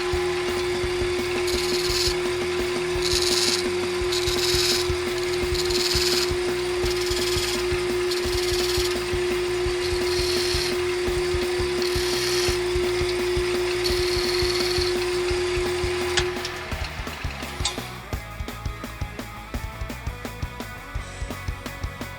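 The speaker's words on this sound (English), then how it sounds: "we're going to turn the lathe on and we're going to put these lines the whole way across" A wood lathe turns a beech spiral sculpture with a loud, steady motor hum and continuous scraping and rubbing of the tool against the spinning wood, then winds down and quietens near the end.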